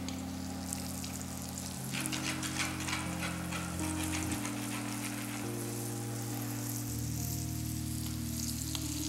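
Veal cutlet frying in a hot pan during a practical food-production lesson, a steady, close sizzle with fine crackling spatter running unbroken for the whole stretch, with a low hum from the kitchen underneath.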